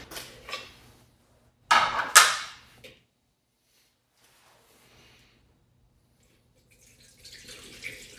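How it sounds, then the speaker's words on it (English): Hydraulic fluid is poured into a funnel on a 97 Cobra, giving a short, close burst of splashing and gurgling liquid between softer drips and quiet gaps. "let's go ahead and start adding our fluid."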